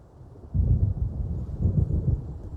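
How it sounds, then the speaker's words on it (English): Low, rolling thunder rumbles from an approaching storm in the game Alan Wake Remastered, swelling after a quiet start and grumbling on steadily with a couple of heavier surges, no voices present. "It seems there's a storm coming."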